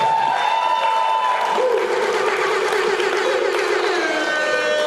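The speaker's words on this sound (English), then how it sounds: "Could we have another round of applause for the drums of the Pacific?" A university ceremony crowd applauds the Drums of the Pacific troupe with sustained clapping mixed with cheers and whoops, loud and continuous, with a few sustained tones from voices or instruments ringing above it.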